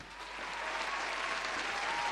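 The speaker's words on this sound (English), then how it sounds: "You should be clapping in advance." An audience at a debate tournament applauds, a steady patter of many hands clapping that swells slightly and holds at moderate, somewhat distant level.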